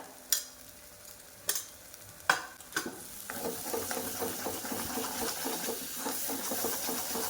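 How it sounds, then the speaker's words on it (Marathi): Masala paste with black masala, turmeric and red chili roasting in a pan for a Marathi dubuk vade curry: a few sharp scraping clicks of a spoon, then a steady hissing sizzle with frequent stirring scrapes, close and alone. "भाजीचे पहा आपला मसाला मस्तपैकी भाजला गेला आहे"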